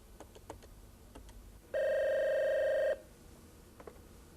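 A single telephone ring tone sounds steadily for just over a second in a quiet room while a call is being placed, with faint clicks before and after.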